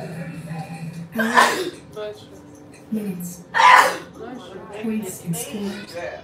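Two sharp sneezes, a couple of seconds apart, cut through a conversation as people talk before, between and after them.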